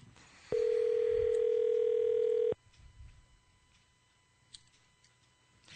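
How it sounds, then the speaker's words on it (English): A telephone ringback tone sounds while a call goes out to a guest on a live show: one steady, loud tone lasting about two seconds, then quiet room noise with a few faint clicks. "while the phone rings"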